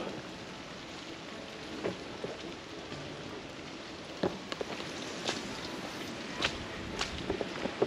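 A rain shower falls over a lake area at sunrise, a steady soft hiss of rain with scattered louder drops tapping nearby and no talking.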